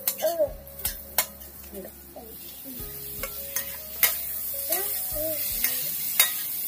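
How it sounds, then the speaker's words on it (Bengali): A spatula scrapes and stirs shrimp and fried onions in a pan with a soft sizzle underneath, repeated clacking strokes against the metal at an uneven rhythm. "এই ভাজা পেঁয়াজের মধ্যে দিয়ে ভেজে নেব"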